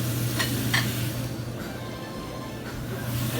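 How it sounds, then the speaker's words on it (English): Sugar and butter caramelize in a pan with a steady, fairly loud sizzle, a couple of brief scrapes or clicks early on and no talking. "We're gonna let that caramelize here"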